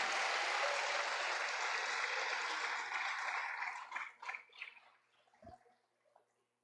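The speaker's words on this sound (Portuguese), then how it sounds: "pode aplaudir, pode" Congregation applause at a church service, a dense wash of clapping that holds steady for several seconds, then breaks into scattered claps and fades out.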